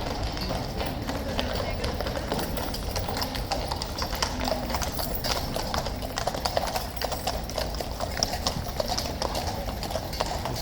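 Hooves of King's Guard horses clip-clop steadily and close on hard ground, a continuous run of sharp rhythmic taps over a busy outdoor background with people talking.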